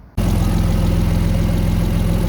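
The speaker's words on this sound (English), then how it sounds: "now we're just going to start the car and top it up and let it run for a little while" Alfa Romeo 147 GTA engine catching after a brief quiet moment, then settling into a loud, steady idle with a low, even rhythmic throb and no talk.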